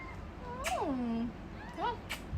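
A cat meows twice indoors, first a long falling meow and then a shorter one, close and clear over a faint background hum.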